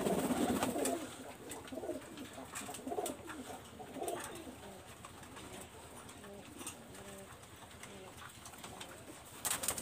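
Pigeons cooing in a loft, soft repeated low coos heard faintly amid quiet background noise, with a brief louder burst at the start.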